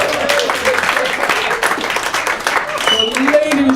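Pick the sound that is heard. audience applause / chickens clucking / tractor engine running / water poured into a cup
audience applause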